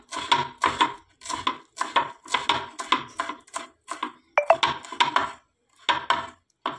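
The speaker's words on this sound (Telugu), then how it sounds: "ఫస్ట్ అయితే నేను కొత్తిమీర అయితే కట్ చేసుకుంటున్నాను" Steady, rapid knife chops through coriander on a board at home while preparing chicken biryani: a rhythmic run of crisp, close taps with one brief pause, no talking.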